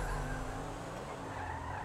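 A car skidding in the video game GTA Online gives a sustained tire squeal over a continuous engine roar, steady and fairly loud throughout, with no talking.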